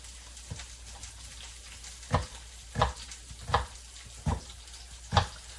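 Onion frying in a pan, a quiet steady sizzle broken by five or six soft, evenly spaced knocks and scrapes.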